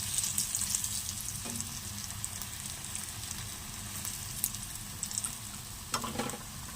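Food sizzles in a frying pan with a steady crackling hiss and occasional stirring scrapes and taps, close and continuous with no talking.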